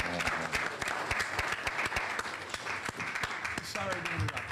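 An audience at a plenary session of a symposium breaks into applause, a dense patter of clapping hands lasting a few seconds, with voices talking over it.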